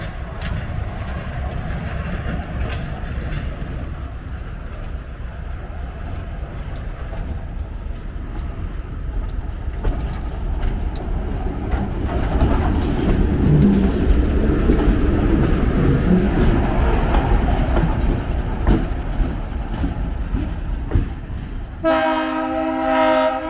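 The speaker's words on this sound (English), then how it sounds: "This clip of the Blue Ox, their Alco C420" An Alco C420 diesel locomotive works a rail yard, its engine rumbling loudly and steadily with rail clatter building midway, and a sharp horn blast sounds near the end.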